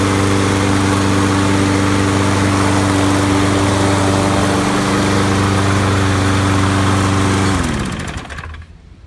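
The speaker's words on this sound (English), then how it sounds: "here's your final start. It does sound and run a lot better." A small Troy-Bilt gasoline engine, freshly tuned up, runs steadily and loud with a throaty, even idle, then cuts off and sputters to silence near the end.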